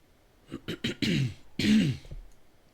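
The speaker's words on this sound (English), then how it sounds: "I need to clear my throat." A person clears their throat several times in quick, rough bursts, ending with two longer, harsher rasps, close and alone.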